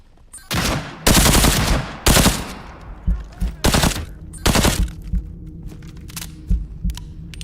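Gunfire in the video game Into The Radius 2: several loud, sharp shots and short bursts at irregular intervals, each ringing out with a brief echoing tail, then quieter scattered pops toward the end.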